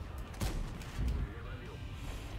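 A heavy tank cannon blast from a Rheinmetall Skorpion in World of Tanks rings out, then a second thump about half a second later, under continuous background noise with no one speaking.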